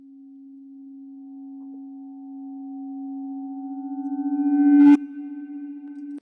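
A reversed wind chime through a Black Hole reverb: a sustained bell-like tone swells gradually in reverse, building to a sudden cutoff with a bright shimmer, followed by a lingering ringing tail.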